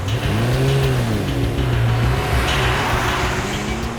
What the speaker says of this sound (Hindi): पंच, श्वेता के घर गाड़ी लो।